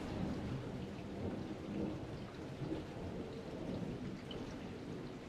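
Steady thunderstorm with rain falling on surfaces, a constant soft hiss of drops over a low rumbling bed of thunder, fairly faint and even throughout with no voices.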